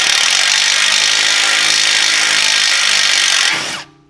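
A power tool running continuously at high speed to remove a seized screw on a BMW M3 E46, loud and steady with a harsh whine, then winding down and stopping near the end.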